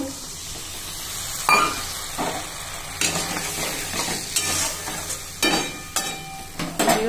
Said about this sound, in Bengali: পোস্ত ভাজা হচ্ছে